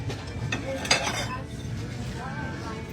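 Glass plates, bowls and dishes clink and scrape together as they are handled in a Singapore shop, with a few sharp close knocks over a steady background murmur of the store.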